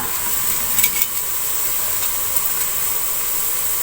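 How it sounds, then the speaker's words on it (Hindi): Onions browning in a pan give a faint, steady sizzle with a couple of light stirring clinks early on. "अब प्याज को मैं ब्राउन कर लूंगी।"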